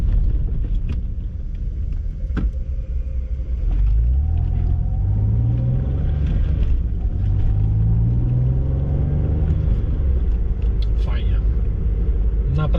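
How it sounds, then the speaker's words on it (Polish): Peugeot 406 Coupe Settant'anni engine pulling smoothly in everyday driving, a steady low rumble with rising tones as it gathers speed inside the cabin, steady road noise throughout. "naprawdę fajnie zbiera się ten silnik, jest elastyczny"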